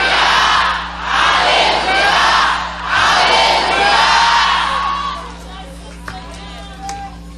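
A church congregation shouts hallelujah three times in loud swelling crowd cries, each burst rising and falling, before the noise fades into quieter murmuring.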